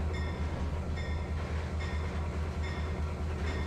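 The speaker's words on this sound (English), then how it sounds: "I'm playing the dangerous game of driving 2 trains at once." Trains running in the Trainz 2022 simulator with Midwestern rail routes: a steady, loud low engine rumble and rolling rail noise with faint periodic clicks, continuous throughout and without speech.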